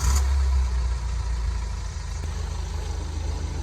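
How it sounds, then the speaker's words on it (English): A BMW X3 F25 engine idles steadily close by, its low hum holding even after a brief louder start at the beginning, with no talk over it. "you need to start the engine."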